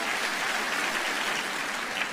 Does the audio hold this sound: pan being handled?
no